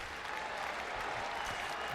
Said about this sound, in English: Oh, you hear the rally claps too.